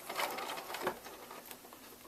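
A sewing machine stitches gathered fabric at a 5/8 inch seam, a quiet rapid mechanical patter running through the short stretch with a slightly louder bump partway, alone with no talk.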